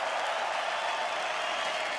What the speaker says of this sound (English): A round of applause for both fighters in this middleweight contest.